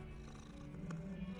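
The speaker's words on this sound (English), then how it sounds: "suppose it's just a cat." A cat purring in Hogwarts Legacy, a low steady rumble close by and fairly quiet, running through the short moment on its own with no talk over it.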